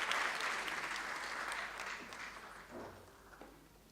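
Audience applause welcoming a speaker at a lecture, a sustained crowd clapping that stays steady and fairly loud, then slowly thins out over a few seconds.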